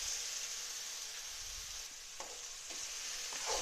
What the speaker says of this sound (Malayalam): നന്നായി ഇളക്കി ഇതിലേക്ക് നമുക്ക് ഈ ചേനപ്പിണ്ടി അരിഞ്ഞത് ചേർത്ത് കൊടുക്കാം.